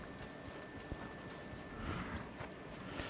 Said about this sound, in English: You have to leave the camp to call the horse.